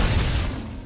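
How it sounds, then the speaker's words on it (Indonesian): A house explodes in a dramatic sound effect: a short, loud, deep boom that quickly fades. "rumah itu meledak"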